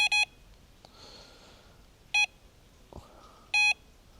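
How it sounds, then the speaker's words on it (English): A carp fishing bite alarm gives three short, sharp electronic beeps, spaced about two seconds apart, each loud and clear against a quiet background with a faint rustle between them. "If I simulate some activity on the alarm here"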